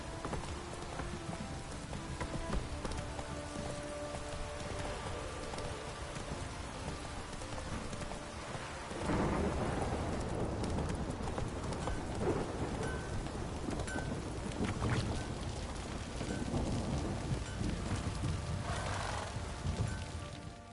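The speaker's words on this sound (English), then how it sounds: "This downpour's a bastard" Heavy rain pours steadily in The Witcher video game, a dense constant hiss that swells louder partway through, with low thunder rumbling underneath and no one speaking.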